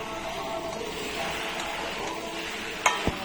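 Turtle meat sautéing in a pan with turmeric and salt, a steady close frying hiss with scraping, ending in two sharp utensil knocks against the pan.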